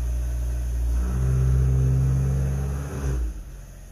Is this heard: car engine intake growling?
yes